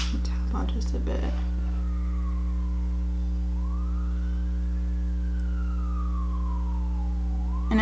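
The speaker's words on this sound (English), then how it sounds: "I'm sorry if you guys can hear the sirens out there." Wailing emergency sirens sound from outside, a long rising and falling tone sweeping steadily over a constant low hum, with a brief bump of indoor noise at the start.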